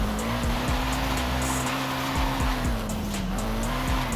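An S13 drifts down a mountain touge road in Forza Horizon 5 played on a T300 wheel, its engine wailing steadily while tires squeal loudly in repeated bursts through the slides.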